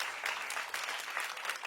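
Applause from a stand-up comedy audience, mostly women answering a show of hands by clapping, steady and fairly distant throughout the short stretch.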